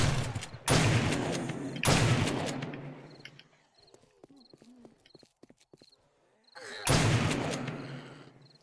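A shotgun is fired at barbed wire in the video game 7 Days to Die. Three loud, booming blasts, each fading slowly, are separated by quieter clicks and small game sounds.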